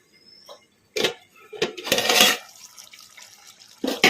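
A lid comes off a pot of chicken fry cooking on a medium flame: a few close metallic clanks and scrapes, then a rush of hissing, bubbling sizzle, followed by a quieter pause and another clatter.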